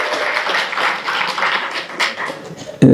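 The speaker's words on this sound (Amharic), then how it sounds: "ጭብጨባው የቀዘቀዘበትን አሁን ተረዳሁኝ።" Applause at a graduation ceremony in a church gathering, a steady patter of many hands clapping from a crowd, moderately loud, ending abruptly as a loud thump cuts in.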